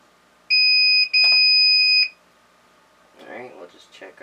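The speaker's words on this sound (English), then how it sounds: "so there's gonna be a loud beep" A chicken egg incubator lets out a loud electronic beep on reset: two steady, piercing tones with a short gap between them, lasting about a second and a half, followed by brief, muffled talk.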